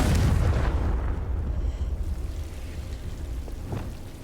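A Confringo spell explosion in Hogwarts Legacy booms with a loud, rumbling blast at the start, then decays into a crackling, fading roar.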